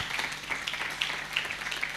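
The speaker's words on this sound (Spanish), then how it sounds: "Denle un aplauso a Jesús" Church audience applauding during a Spanish-language sermon, a steady patter of clapping from many hands heard at a moderate distance.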